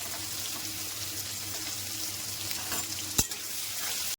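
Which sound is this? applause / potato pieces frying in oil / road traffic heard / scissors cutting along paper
potato pieces frying in oil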